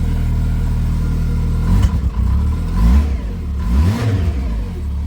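A Kawasaki Teryx H2 side-by-side engine idles steadily up close, then gives several short revs that rise and fall over its low rumble, with no talk.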